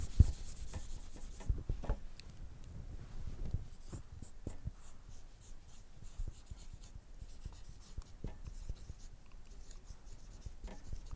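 Chalk or marker scratches and rubs steadily across a board while a math problem is worked out, a continuous close scraping texture with small taps and no voice.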